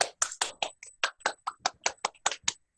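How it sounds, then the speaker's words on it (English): About a dozen sharp hand claps in a quick, even rhythm over a couple of seconds, close and clear with silence between them, closing a group meditation exercise. "and then we clap."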